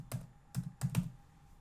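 Four quick computer keyboard keystrokes sound close and clear in a short, irregular burst, as though typing a single word into a spreadsheet, with no talking.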